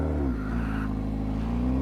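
Suzuki Hayabusa motorcycle engine held at a steady, loud, close rev with a slight pitch dip and rise, a smooth continuous drone from start to end.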